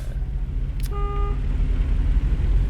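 A truck engine in American Truck Simulator, version 1.57, hauling a jet engine intake cover, keeps up a steady low rumble with a short horn toot near the start.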